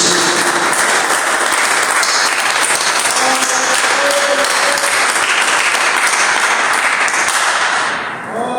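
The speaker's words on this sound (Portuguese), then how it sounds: "Quem pode dar uma salva de palmas bem alegre para Jesus?" Church congregation giving a loud, cheerful round of applause, dense continuous clapping that fills the room, fading out near the end with little talk.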